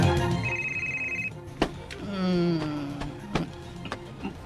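A cellphone gives a short, bright electronic ring, then stops; sharp knocks, clatter and a muffled sliding sound follow in a room with no clear talk.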